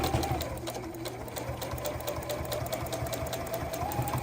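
Juki domestic sewing machine basting denim, running steadily at a fast, even rhythmic whir, close and unbroken throughout.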